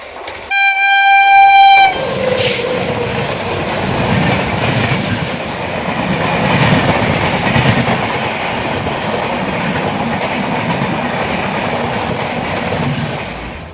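A train horn sounds in loud tones for about two seconds at Nivasar station, then a running passenger train rumbles steadily with rattling wheels and clatter throughout.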